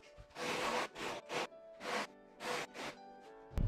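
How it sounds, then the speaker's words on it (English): A sanding block rasps back and forth along a surfboard rail in about seven close, even strokes, each a short scratchy swish separated by brief pauses. "So here I'm gonna take my sanding block and I'm going to just barely cut this in and then fade to the very edge through the tail."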